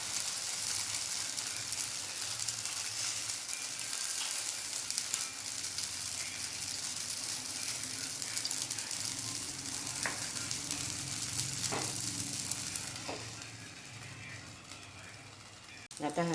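A paratha stuffed with potato, onion, coriander and tomato fries in a little oil on a pan, a steady dense sizzle filling the whole stretch, close and even, with a few faint clicks near the end.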